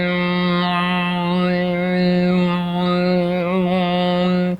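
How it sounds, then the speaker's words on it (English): A single voice hums one steady, comfortable note close by while the tongue moves around inside the mouth, so the buzzy resonance shifts and wavers for about four seconds without a break before stopping abruptly. "Now simply hum a comfortable note so that you feel a buzz in your lips, and then hold the hum, and as you do so, move your tongue around inside your mouth."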